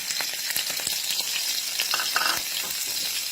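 Lotus stems and minced pork frying in a pan, a close, bright continuous sizzle with crackles and occasional stirring scrapes.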